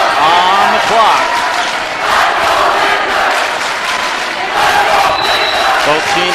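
Cheering sections of both teams at a high school basketball game, a loud, continuous crowd roar of shouts and cheers with whistles and squeaking shoes mixed in, under a commentator's voice.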